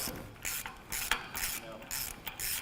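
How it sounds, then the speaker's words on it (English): Wheel studs are fitted into rear axles for a rear end on a 1932 twin-turbo roadster build, giving a series of close, rhythmic metallic ratcheting and clicking bursts with short pauses between them. "right now I'm putting the studs in the axles that are going in the rear end"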